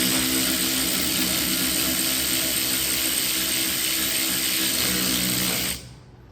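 A ratchet or driver with a 7mm hex bit works on the brake caliper bolts of a 2003 Ford Escape, making a loud, continuous mechanical whir that runs steadily for about six seconds before cutting off abruptly.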